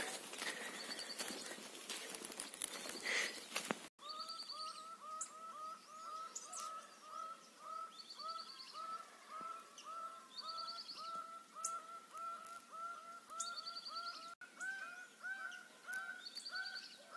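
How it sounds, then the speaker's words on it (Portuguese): A small bird chirps over and over in quick, evenly spaced calls, fairly close and clear against a quiet background, after a few seconds of louder rustling noise at the start. "Passarinhozinho abusado da bexiga."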